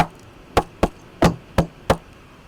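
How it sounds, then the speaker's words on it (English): Five sharp, hollow knocks on a door, unevenly spaced and close by, ring out alone in a quiet room during a reading of Macbeth. "What is that knocking?"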